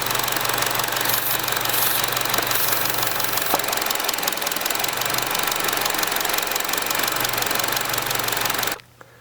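An idling 1.4L Chevy Cruze engine with a vacuum leak and a P0171 lean code, a steady close mechanical clatter and hiss running evenly for about nine seconds before cutting off abruptly.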